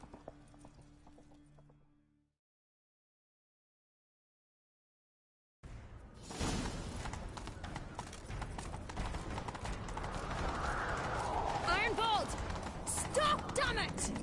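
Rapid hoof clip-clop of a galloping horse in a video game, with mechanical clatter, starting after a brief silence and continuing steadily and loud to the end.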